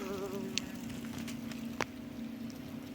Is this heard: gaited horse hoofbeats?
no